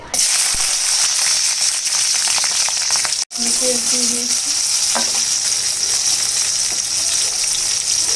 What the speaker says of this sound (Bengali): সামান্য পরিমাণে একটু তেল মিশিয়ে গরম হয়ে গেছে, এখন মরিচগুলো দিয়ে দেবো।